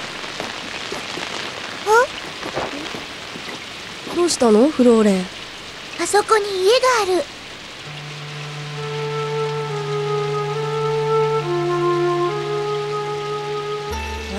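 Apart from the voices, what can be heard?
rain falling in a forest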